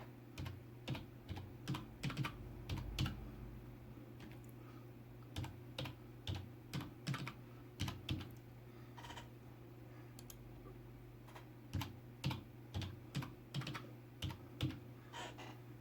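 Fingers typing a password on a computer keyboard during a MX Linux install, producing bursts of quick, close key clicks separated by short pauses, with no talking.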